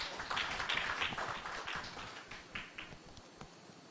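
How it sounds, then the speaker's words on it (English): A conference audience gives a panel a round of applause, scattered, fairly faint clapping that thins out toward a few separate claps. "A round of applause for my panel,"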